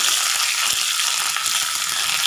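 Curry leaves sizzling in hot oil with dried chillies and mustard seeds for a coconut chutney tempering, a steady dense hiss with faint crackles throughout, no talk.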